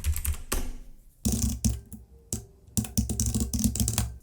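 Keys clack on a computer keyboard in quick, uneven bursts, close and crisp, with short pauses between runs of strokes while a WordPress admin address is entered.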